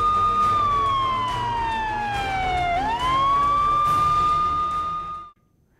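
A police hooter siren wails loud and close, holding a high tone that dips and sweeps back up midway, then cuts off abruptly into silence.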